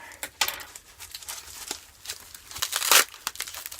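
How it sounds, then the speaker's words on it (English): Packaging of a bushcraft subscription box cut open carefully, a close series of faint crinkling, tearing and rustling bursts with a louder crackle near the end. "So I'm going to cut carefully because I have no idea what's in it."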